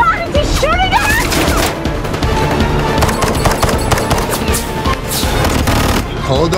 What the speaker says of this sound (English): is he shooting at us?